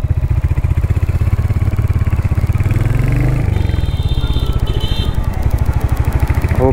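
A 350 cc motorcycle, a Royal Enfield Hunter 350 or Honda CB350 RS, idles with a steady, close thumping beat, briefly revs in the middle with a rising growl, then settles back to its even pulse.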